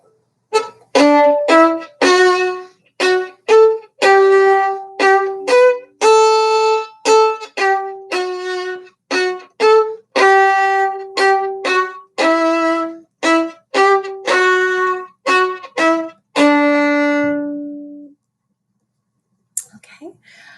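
Violin plays Suzuki Book 1 Allegretto: a series of short, detached bowed notes in a clear stop-and-go rhythm, close and fairly loud, ending on a held note, then near silence with a faint brief sound at the end.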